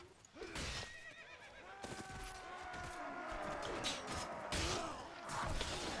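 A horse in the medieval combat game Prophesy of Pendor lets out loud, repeated neighs and whinnies amid the clatter and impacts of battle.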